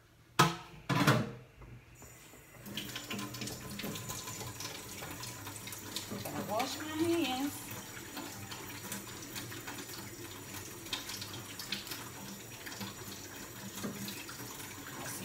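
Tap water runs in a kitchen sink during hand washing, a steady soft hiss that carries on for most of the stretch after a couple of louder knocks and clatters at the start.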